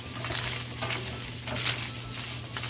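Ground beef with added spice sizzles and fries in a hot pan while a spoon stirs it through, a loud, dense, continuous crackle with faint scraping strokes and no talking.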